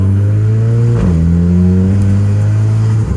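Renault Clio 4 RS Stage 3 engine pulling hard under acceleration, a loud steady drone that dips briefly at a gear change around one second, then climbs again and fades slightly at the end.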